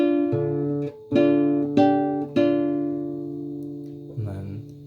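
Two guitar strings plucked with the little finger alongside an open D, ringing notes struck four times in a loose rhythm, each sustaining and decaying before a softer final pluck, close and clear without talk.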